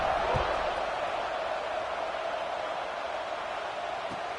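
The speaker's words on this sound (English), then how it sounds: "this crowd is buzzing after that last score" Steady wash of crowd noise in a stadium during a Madden football video game, a constant buzzing murmur with a couple of faint thuds.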